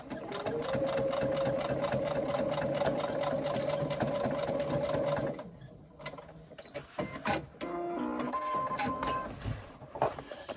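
Sewing machine stitching a second reinforcing seam on a carry-all tote bag, a fast steady mechanical whir for about five seconds, then stopping, followed by soft handling clicks and rustles.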